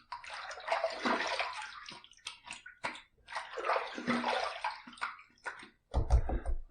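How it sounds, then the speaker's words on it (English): Water splashing and running during a rinse after a safety razor shave, two long surges of sloshing flow separated by brief pauses, close and moderately loud, ending with a low gurgling splash. "All right, first pass done. Let's rinse."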